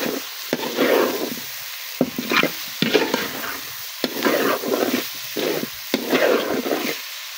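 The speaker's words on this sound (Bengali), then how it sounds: "আর একটু নেড়ে চেড়ে দিব" Vegetable fried rice with winter vegetables and bay leaves being stirred in a pan, repeated scraping strokes in bursts roughly every second over a light sizzle, close and fairly loud.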